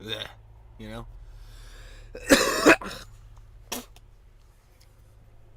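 A short, loud burp breaks through, with brief bits of quiet talking before it and a smaller throaty sound after.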